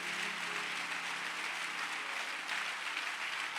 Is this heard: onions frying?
no